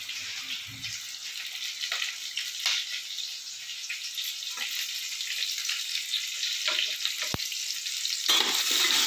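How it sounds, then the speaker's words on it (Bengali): Potatoes frying in oil seasoned with salt and turmeric, a steady close-up sizzle with intermittent spatula scrapes and a sharp tap near the end. "আলুটা আমার ভাজা হয়ে গেছে এবার তুলে নেবো"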